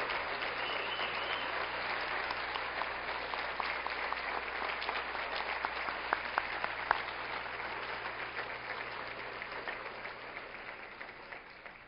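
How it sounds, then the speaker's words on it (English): Steady, sustained audience applause at an induction ceremony for the National Cowgirl Museum and Hall of Fame, a dense wash of many hands clapping continuously throughout, with a few sharper individual claps standing out near the middle. "Let's give one more vigorous, heartfelt applause for this year's inspiring inductees into the National Cowgirl Museum"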